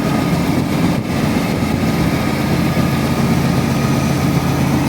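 Grain truck engine running steadily as it drives toward the weighing scales after unloading, a loud, continuous low rumble with no voices.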